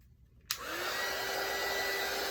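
A hair dryer switches on with a sharp click and then blows with a steady, loud whooshing roar, drying tissue paper on a mixed media art piece.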